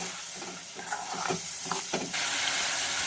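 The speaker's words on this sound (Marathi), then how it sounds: "कांदा काढला होता ते घालूया आणि छानपैकी आपण लालसर होईपर्यंत भाजून घेऊया" Finely chopped onion frying in hot oil in a pan until reddish, with a steady close sizzle and hiss broken by several stirring scrapes, the frying swelling louder and denser near the end.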